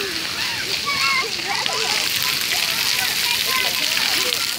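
Water sprays and splatters continuously at a children's splash pad in Gregory Mill Park on a hot day, a steady hiss with children's voices and adult talk mixed in.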